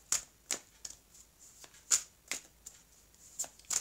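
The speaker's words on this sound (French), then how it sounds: "je vais couper le jeu" Oracle cards being shuffled and cut, a series of crisp papery riffles and snaps at irregular intervals, close and fairly quiet with no talking.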